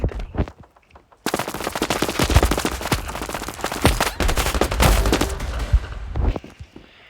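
Rapid video game gunfire: dense bursts of automatic weapon shots crackle loudly and continuously for several seconds after a brief quiet opening, then taper off near the end.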